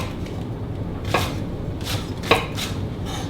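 A kitchen knife slicing spring onions thinly at an angle on a board, heard as a few separate, crisp chops spaced about a second apart over a low steady background hum, close and moderately loud.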